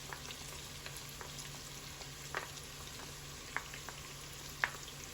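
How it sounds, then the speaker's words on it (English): Three cloves of minced garlic fry in a pan with softened onions for Southern-style green beans, a faint, steady sizzle dotted with soft pops and crackles. "Now we're going to add about 3 cloves of minced garlic."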